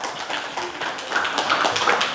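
Classroom students applaud a presenting group: a brief, moderately loud patter of clapping hands that carries steadily to the end.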